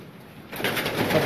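Pigeons belonging to a keeper in Lahore, a soft murmur of cooing and bird calls that rises after a quiet start and holds steady at moderate, close range, with no talk.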